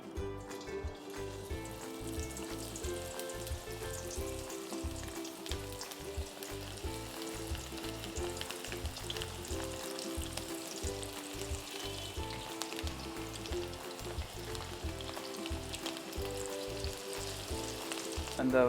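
Pieces of banana flower, scattered loosely like pakoda, deep-fry in hot oil over medium-high heat, giving a steady dense sizzle throughout with music playing underneath.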